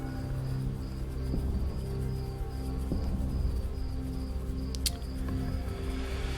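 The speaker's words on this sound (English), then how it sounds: "Oh, there are bees in here." Bees buzz inside an overgrown room in the sci-fi adventure game STASIS, a steady low droning hum with a faint high whine, accompanied by a few soft clicks and one sharp high chirp near the end.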